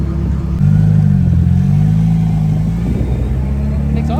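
A modified race car engine revs and pulls away, a steady low rumble rising in pitch, loud and close, with a voice briefly underneath.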